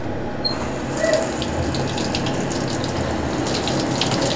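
Tap water runs steadily to wet a dog for its bath, a continuous close hiss and splash with no pauses and no talking.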